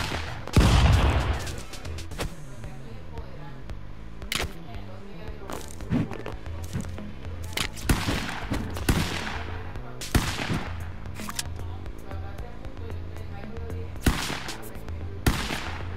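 Rapid cartoonish gunfire from the Stick Fight video game, a scatter of sharp bursts and single shots popping throughout over a steady music-like background, with a louder boom near the start.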